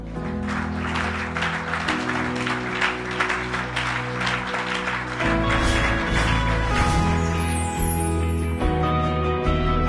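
A church congregation applauds and cheers in praise during a worship service. The sustained clapping carries over steady music throughout, growing fuller and louder partway through, with no distinct speech.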